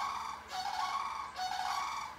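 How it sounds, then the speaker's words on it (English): Cranes call outside a window in two loud, harsh honking bursts, each drawn out for about a second, with no talk over them. "Those are the cranes outside my window."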